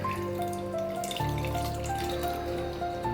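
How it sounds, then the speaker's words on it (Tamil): Tamarind water poured into a pot of bisi bele bath, a steady close trickling and splashing of liquid running continuously throughout. "புளி தண்ணீர் தேவைக்கேற்ப சேர்த்துக்கோங்க."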